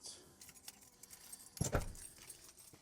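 A set of car keys for a 2016 Audi Q5 jangles close by, a quiet rustle that ends in one short, louder metallic shake.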